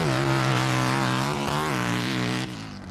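Race car pulling away to start a hill climb, its engine revving hard with a loud, rising buzzing note that climbs through the gears before dropping off near the end.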